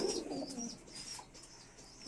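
Breeding pigeons, including a male bird, coo softly in a loft, a few faint throaty calls with light chirps at low volume and no talk.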